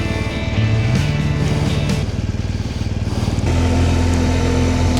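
A BMW R1200GSA motorcycle rides along roads around the Lac de la Haute-Sûre in Luxembourg, its engine droning steadily and close, then shifting to a new pitch partway through, with no talking.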